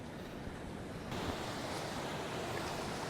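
Calm sea waves wash steadily onto the shore at a beach resort at Pantai Camara, a continuous broadband surf wash with some wind noise, getting slightly louder partway through, with no voices.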